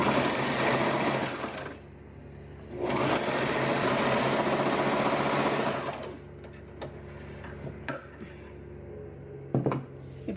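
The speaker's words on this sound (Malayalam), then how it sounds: "ആദ്യം ഈ ക്രോസ് പീസിൻ്റെ ഒരു സൈഡ് നമുക്കിങ്ങനെ തയ്ക്കാം" A sewing machine stitches a cross piece onto a salwar top, its motor whirring in two long steady runs, then stopping and giving way to short bursts and clicks as the fabric is shifted, close and clear.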